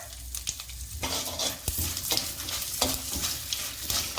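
Round chillies fry in oil for a tempering, giving a close, continuous sizzle broken by stirring scrapes and occasional sharp crackles, with no talk over it.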